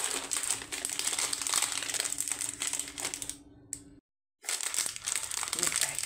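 Close, loud crinkling of a plastic snack bag being opened and handled, dense rustling bursts that stop abruptly for a brief silence, then resume.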